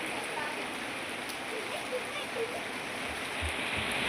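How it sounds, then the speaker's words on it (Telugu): Steady, dense hiss of heavy rain pouring down in Nalgonda, continuous and fairly loud throughout, with faint voices murmuring underneath. "వర్షం భారీగా పడేటట్టుంది"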